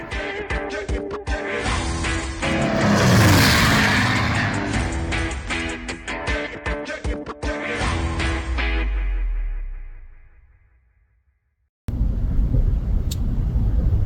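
A steady engine rumble and road noise from a car driving to Hood River, loud and continuous, fading out briefly near the end before resuming.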